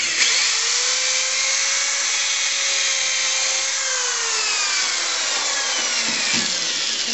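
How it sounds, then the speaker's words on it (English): An antique plug-in electric drill bores pilot holes into the wooden vertical tower of a Paschal candle stand, a steady loud whine with a sustained tone that dips near the end, close and alone. "I've finished drilling the pilot holes into the vertical section, the tower, using my antique plug-in electric drill."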